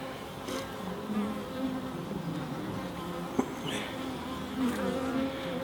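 A steady, dense buzz of many bees humming close by, continuous throughout with a few individual insects droning past.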